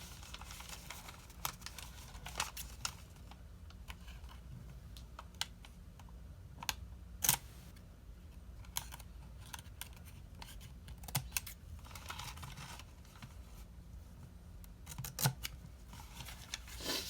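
Scissors snipping freezer paper to line a soap mold box, a series of sharp irregular cuts and clicks over quiet room tone, spaced unevenly across the stretch.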